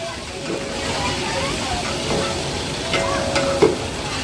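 Capsicum (bell peppers) frying in a pan: a steady low sizzle with a few soft scrapes of stirring, and voices faintly in the background.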